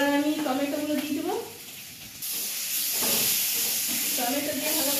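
Tomatoes drop into oil where ginger has been frying, and a sudden loud, steady sizzle begins after someone speaks briefly. The hissing stays bright and continuous to the end.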